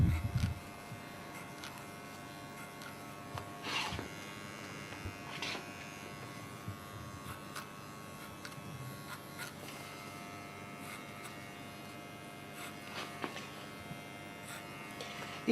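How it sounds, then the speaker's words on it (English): Fine taper hair clippers buzz steadily during a classic barbershop haircut, the hum running low and continuous throughout. A few soft clicks and brief rustles sound near the start and middle. "I will enhance that detail even more with my fine taper clippers"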